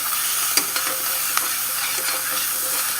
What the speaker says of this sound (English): Gotta mix that up around so that it wouldn't stick to the pot